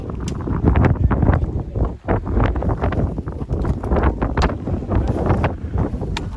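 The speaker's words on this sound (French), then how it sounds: "Il y a un petit vent" Gusty wind buffets the microphone on a mountain trek in the Caroux massif near the Héric gorges, a loud, uneven roar that rises and falls in bursts throughout with a brief lull.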